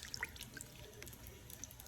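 Water dripping and trickling off soaked chilies being shaken over a bowl before going into a blender, a few faint, close patters and drips over quiet background, no talking.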